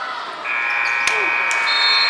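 A long, loud electronic buzzer sounds in a high school gym to end the first quarter of a varsity boys basketball game, holding steady while a sharp bounce or thud cuts through near the middle.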